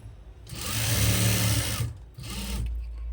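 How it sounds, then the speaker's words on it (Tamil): A sewing machine top-stitching a chudi pant pocket: one loud continuous whirring run of about a second and a half, a short pause, then a second shorter burst, close by with no talk. "மேலே நீங்கள் டாப் ஸ்டிச் கொடுத்துடணும்"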